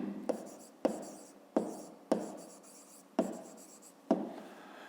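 Handwriting on a fifth-grade geometry exercise: six crisp, separate pen or pencil strokes land roughly every half second to a second, each a sharp scratch that fades quickly, near and fairly quiet.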